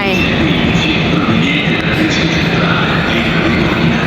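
Steady rumble and airy whoosh of a high-speed train running between Milan and Florence, heard from inside the carriage as a continuous loud drone without breaks.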